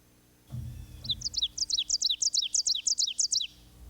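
A common yellowthroat gives a rapid series of about a dozen sharp, clear call notes in a steady rhythm, close and fairly loud, preceded by a brief low thump.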